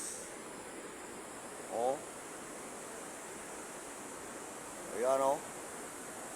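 Steady broadband rush of water pouring over rocks fills the scene at close range, a constant hiss interrupted twice by a man's brief exclamations.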